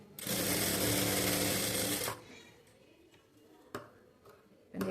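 Sewing machine stitching blouse fabric in a steady, loud buzzing run of about two seconds, then stopping, followed by a few soft handling clicks and taps.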